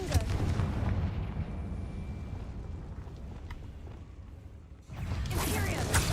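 A Confringo fire-blast spell in Hogwarts Legacy gives a deep, booming, explosive rumble that fills the opening second, then lingers under a low murmuring background before a second heavy burst hits near the end.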